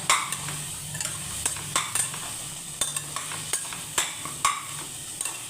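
Vegetables sautéed in a pan while cooking khichdi, a steady sizzle under repeated clinks and scrapes of a spoon stirring, close and fairly quiet with no talk.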